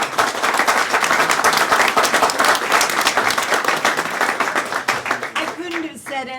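An audience claps through a sustained round of applause at a playwright competition, dense and loud throughout, tapering slightly near the end as a voice begins.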